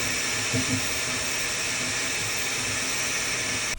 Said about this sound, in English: you're always going to hear that fan blowing and blaring in your ear